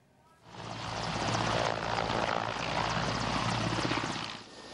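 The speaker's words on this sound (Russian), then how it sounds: "Это один из транспортно-ударных вертолетов операции объединенных сил." A military transport-attack helicopter of the Joint Forces Operation flies close overhead, its loud rotor and engine roar swelling in quickly, holding steady with a rhythmic blade thump, then dropping off near the end.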